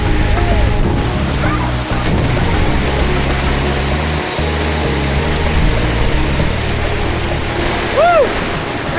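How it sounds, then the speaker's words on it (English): A powerful waterfall at the headwaters of the Siem Reap River in Cambodia roars in a loud, continuous wash of rushing water, close by, with faint chirps and sounds over it. "It is so forceful underneath that waterfall"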